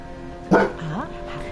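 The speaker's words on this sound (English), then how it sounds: "I might actually put him in his crate if he keeps barking like this." A dog at a window gives a single sharp close bark followed by a rising whine, over a quiet room background.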